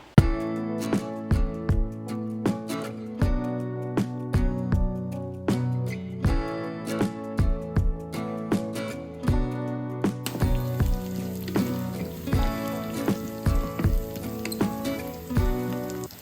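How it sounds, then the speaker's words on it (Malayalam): Chopped ginger, four green chillies and coconut pieces sauté in hot coconut oil for a traditional Kozhikode chicken curry: a steady close sizzle broken by a quick, regular run of sharp spatula scrapes and taps, with no talking. "എണ്ണ ചൂടായതിനു ശേഷം കൊത്തി എരിഞ്ഞ ഇഞ്ചി, ഒരു 4 പച്ചമുളക്, കുറച്ച് തേങ്ങാക്കൊത്തും കൂടി ഇട്ടിട്ട് നന്നായിട്ട് വഴറ്റിയെടുക്കുക"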